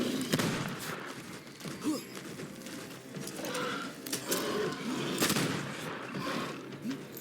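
Gunfire in the video game Banishers: a rapid series of sharp, loud gunshots and bursts scattered across the clip over a busy background, with no talk.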